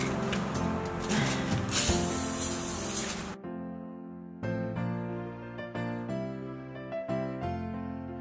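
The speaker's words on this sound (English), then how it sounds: "I think what I want to do with the pine cones is actually spray these gold." Aerosol spray paint hissing as pine cones are coated gold for a budget Christmas urn, a dense steady spray that cuts off after about three seconds, followed by sparse knocks and handling sounds.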